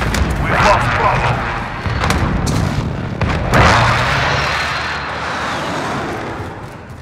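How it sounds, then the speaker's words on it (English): Airstrike explosions in Call of Duty Modern Warfare Domination on the Atlas Superstore map: heavy booming blasts and rumbling debris, loud and near, with a second big burst midway, over continuous battle noise and game voice chatter. "Friendly precision airstrike on the way"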